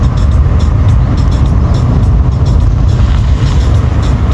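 Car driven on the road with a child and his father at the wheel, heard from inside as a loud, constant low rumble of engine and road noise with no breaks and no voices.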